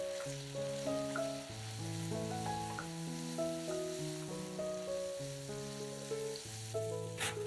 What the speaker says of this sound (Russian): Лук добавляем к мясу и обжариваем еще 2-3 минуты.